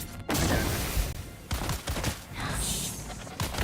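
Machine gun fire in the video game Dune: Awakening, a few sharp bursts and scattered shots that cut in and out with short gaps between them, fairly loud and close.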